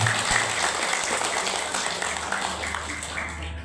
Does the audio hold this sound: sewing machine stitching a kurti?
no